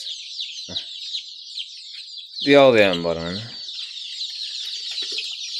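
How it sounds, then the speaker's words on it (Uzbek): A crowd of large, healthy black chicks kept for sale in Andijan cheeps in a dense, continuous high chorus, with a voice briefly breaking in midway. "Hammasi yirik, sog'lom jo'jalar do'stlar"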